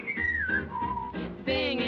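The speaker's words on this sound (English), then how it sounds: "So I whistle and sing" A person whistles a cheerful melody, sliding between notes, close and clear with no talking.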